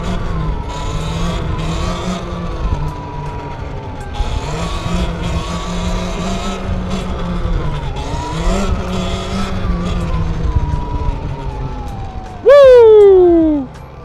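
An Eride Pro SR electric bike rides hard and pops wheelies, a steady high motor whine rising and falling in pitch with speed, loud and close, ending in a sharp swooping squeal.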